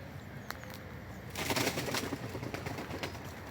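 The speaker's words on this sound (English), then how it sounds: "Thank you, birds." Pigeons or doves coo and flutter outdoors near the ruins of Castle Acre Castle in Norfolk, soft calls and a burst of flapping wings midway, fairly faint against open-air background noise.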